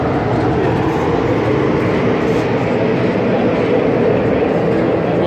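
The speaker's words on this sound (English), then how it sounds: "We'll stay on the tram for a few minutes." A tram carries riders around the grounds of the Illinois State Fair, giving off a steady, loud rumble of rolling wheels and motor that runs unbroken throughout.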